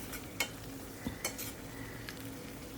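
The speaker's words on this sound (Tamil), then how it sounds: "சிம்மில் வச்சுட்டு அப்படியே நம்ம ஃப்ரை பண்ணிக்கரலாம்." Squid frying in a pan with curry leaves and salt over low heat: a soft, steady sizzle with a few light clinks of a utensil against the pan.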